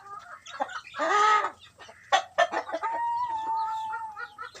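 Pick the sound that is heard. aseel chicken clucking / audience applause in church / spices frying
aseel chicken clucking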